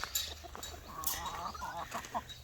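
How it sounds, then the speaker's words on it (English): Several chickens cluck and murmur softly nearby, short overlapping calls at a low, quiet level with no talking. "Here's all the chickens coming to see."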